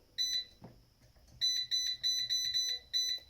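An air fryer beeps in a series of sharp, high electronic tones, one early and then a rapid run of six, loud and close with no talking.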